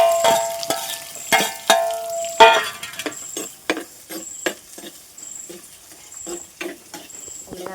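Sliced onions sautéing with salt in a hot pan, giving a light sizzle under scattered stirring clicks and scraping, with a few louder clatters near the start and a faint beeping in the background.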